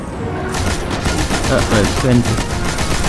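Rapid gunfire from the video game Destiny rattles in fast bursts throughout, loud and close, with someone speaking briefly over it.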